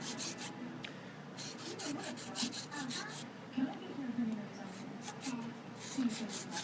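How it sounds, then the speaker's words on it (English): A pipe button repaired with super glue and charcoal is filed down with quick, rasping strokes in steady bursts, close and fairly quiet, while a person speaks softly underneath. "you start just filing it away"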